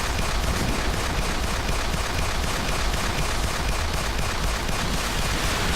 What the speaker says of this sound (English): I got cannon rounds for all of you bastards.